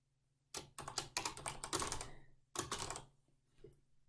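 Rapid clacking of keys as code is typed on a computer keyboard, two close bursts of quick keystrokes with a short pause between, nearby and fairly quiet with no talk.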